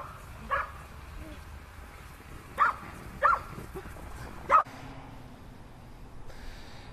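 Dogs out in the snow give four short barks spaced irregularly, moderately near, over a quiet outdoor background with faint breathing between them.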